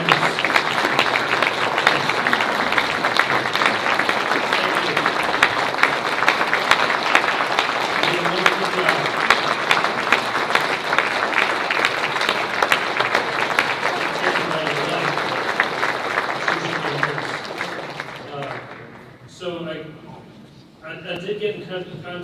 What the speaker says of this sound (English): I wanted to give one last round of applause for Lisa, for Tammy, for our great hosts